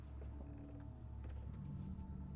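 A door in the horror game Amnesia: The Dark Descent creaks slowly on its hinges. The drawn-out groan is quiet and wavering over a low ambient drone.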